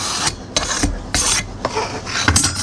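Rammed moulding sand, slightly wet, is struck off level across the top of a homemade metal moulding box, giving a series of loud rasping scrapes in rhythmic strokes with brief pauses between them.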